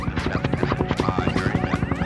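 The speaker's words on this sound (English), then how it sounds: "the Westpac Lifesaver Rescue helicopter is responding to an emergency way out at sea" Westpac Lifesaver Rescue helicopter flying out to an emergency over the sea off the Gold Coast, Queensland, its steady, rapid rotor throb pulsing loudly and continuously from close by, with no voices.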